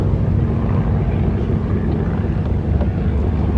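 A T-6 Texan warbird at a beach air show, a steady low propeller-engine drone with gusty wind rumble across the microphone, continuous and moderately loud.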